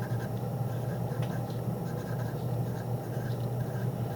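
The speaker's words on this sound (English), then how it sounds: "You're going to take a plain piece of notebook paper and just write speech" Pencil writing on plain notebook paper, a steady continuous scratchy scrape of graphite across the sheet, close and fairly soft, with no talking.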